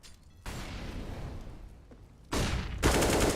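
Gunfire from a competitive shooter video game match with a bomb objective, ending in a headshot: dense, noisy bursts of shots that step up in loudness in two stages near the end, with no voices over them.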